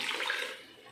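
Water is poured into a pot of keerai sambar with cooked toor dal and sautéed spinach, a brief soft splashing pour that fades within a second.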